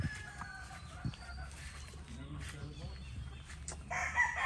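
Chickens at a game farm, with a rooster crowing amid soft clucking and farmyard background noise, fairly distant and low in level, with some voices faintly present.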